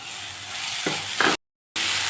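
Shredded cabbage and green chillies sizzling and being stirred in a pan while making a vegetable adai, a steady close frying hiss with a couple of stirring scrapes that cuts out briefly before resuming.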